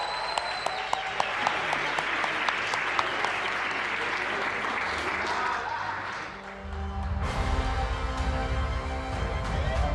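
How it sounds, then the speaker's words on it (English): Warm audience applause for an award winner at a women in science awards ceremony, dense steady clapping throughout, with a music sting entering partway that continues under the applause. "a warm round of applause for Professor Brenda May Morrow from the University of Cape Town"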